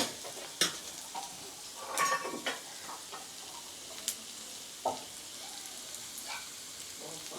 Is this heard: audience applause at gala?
no